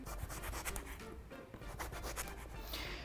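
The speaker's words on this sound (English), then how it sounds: "First thing we're going to do is cut our eggplant into 1/2 inch rounds." A knife slices an eggplant into half-inch rounds on a cutting board, giving a run of close, dry scraping and rubbing cuts in quick succession.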